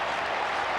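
Dense, steady applause fills a short moment at a 1993 Carlton versus Essendon AFL round 2 football match, sounding like a broad crowd clapping rather than a single pair of hands, with no voices standing out.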